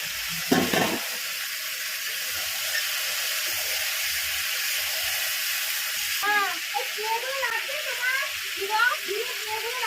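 Ridge gourd and fried potato pieces sizzle steadily in a pan while a Bengali fish curry cooks, a constant frying hiss, with a voice talking over it in the second half.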